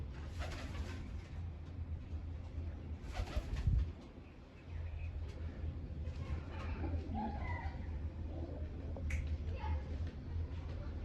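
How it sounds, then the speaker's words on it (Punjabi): Pigeons coo faintly from inside their coop under low, quiet background noise, with a sharp thump partway through and people talking nearby. "ਆ ਕਬੂਤਰ ਹੀ ਸਾਰੇ"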